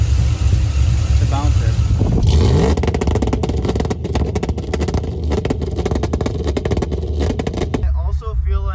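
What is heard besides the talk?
Chevrolet Silverado engine revving on MSD 2-step limiter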